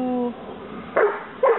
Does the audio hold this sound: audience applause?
no